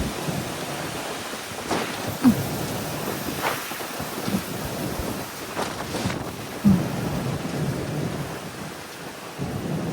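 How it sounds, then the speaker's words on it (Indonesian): Strong gusty wind in Japan roars against the microphone with rain hissing steadily, a few deeper rumbling bursts rising and falling throughout. "Itu suara angin yang tuh,"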